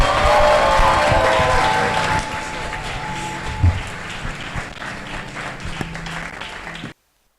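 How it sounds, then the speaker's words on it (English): A large audience at a college summit gives a long, loud round of applause after a moving performance, steady dense clapping that thins slightly toward the end before cutting off. "Can we give them another massive round of applause?"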